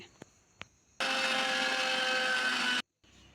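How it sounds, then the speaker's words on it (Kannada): After a couple of light taps, a mixer grinder whirs loudly for about two seconds at a steady pitch grinding garam masala spices to powder, then stops abruptly. "ಈಗ ಎಲ್ಲ ಮಸಾಲೆನೂ ಮಿಕ್ಸಿ ಜಾರಿಗೆ ಹಾಕ್ಕೊಂಡೀನಿ. ಇದನ್ನೆಲ್ಲ ಫೈನ್ ಪೌಡ್ರ್ ಮಾಡ್ಕೊಂಡು ತೊಗೊಂಬರ್ತೀನಿ"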